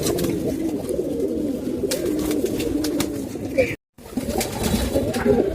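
Pigeons coo steadily and close in a loft during molting season, a dense layered murmur of birds that continues almost without break.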